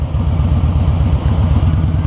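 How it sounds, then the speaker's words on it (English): A Harley-Davidson Softail with a big engine rumbles loud and close while riding, its low throb steady with slight surges as it pulls through the gears, no voices. "one of the best Harleys ever made, the Softail Harley with the big engine"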